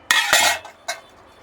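Steel pots and pans clinking as they are handled in a shop, with two quick close metallic rattles followed by one lighter clink.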